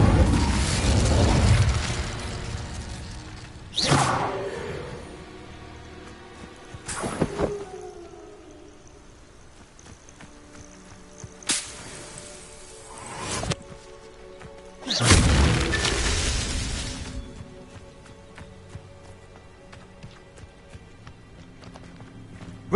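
Spells crack and boom in the Hogwarts Legacy video game, four or five heavy bursts spaced several seconds apart, each decaying into a lingering magical hum, with quiet stretches between.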